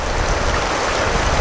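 Water in the low-running Arkansas River, shallow as a creek, flows steadily in a loud, close, continuous broadband rush with no voices.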